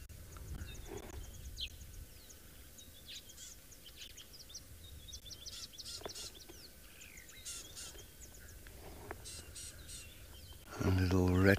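Small birds alarm calling at a predator on an early-morning African safari drive, a busy run of high chirps and tweets close by, repeating through the scene over a steady outdoor hum, ending in a louder burst of noise.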